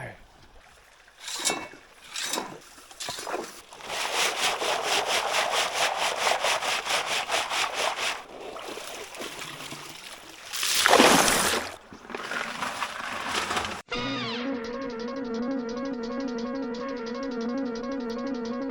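A bucket is hauled through shallow creek water with scraping, sloshing pulls and rubbing knocks, while someone talks nearby between the drags.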